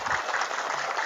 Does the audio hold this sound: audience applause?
yes